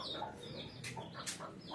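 Hen clucking outdoors near chicks, a few short calls scattered against steady background noise, fairly faint and distant.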